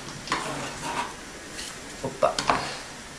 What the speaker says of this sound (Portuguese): Vamos misturar bem, que é para ganhar o sabor.